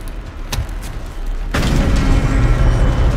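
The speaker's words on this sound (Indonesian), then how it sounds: "closing the blast doors now." In Call of Duty Modern Warfare 3, blast doors close: a heavy mechanical boom hits midway, followed by a loud, sustained low rumble after a quieter stretch with a few sharp thuds.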